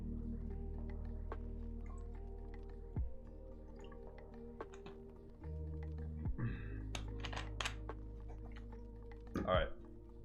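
Keys clacking on a keyboard fitted with Cherry MX Vintage Black switches, a steady run of close, crisp strokes with a few louder thuds, under a low background hum.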